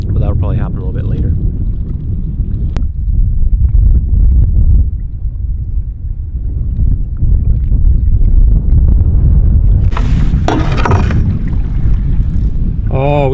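Wind gusting across a lake, heard from a boat while fishing for northern pike: a steady low roar and buffeting on the microphone carries through, with brief splashes or clatter near the end.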